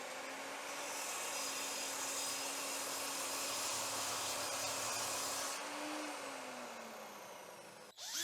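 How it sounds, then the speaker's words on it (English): Miter saw cutting through 18mm plywood in a small workshop, a steady whining motor drone with a rough, continuous cutting noise that eases off and winds down near the end, close, with no voices. "It's a little bit too big, so I'm just going to use my miter saw to cut it a little bit."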